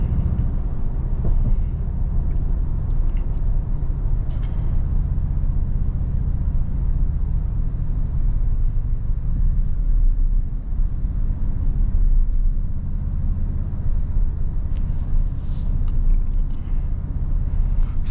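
A 2024 Toyota Tundra TRD Pro pickup on the road, heard from the cabin as a steady, loud low engine and road rumble that drones on without a break.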